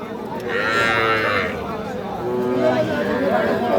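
Young bull calves at a cattle market moo loudly close by, two drawn-out calls in a row, while people chatter in the background.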